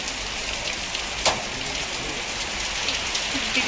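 Steady rain falls close by in a continuous even hiss, with a faint thud partway through and no voices.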